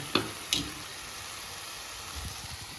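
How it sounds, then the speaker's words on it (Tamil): Onions sautéing in a pan with salt and turmeric make a soft, steady sizzle, broken early by two sharp metallic clinks from a utensil. "சீக்கிரமாக அந்த வெங்காயம் வதங்கும்"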